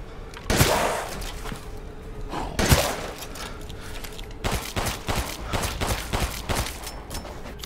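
Gunfire in Resident Evil: a couple of loud single shots early on, then a quick run of rapid close shots toward the end, with quieter game noise between.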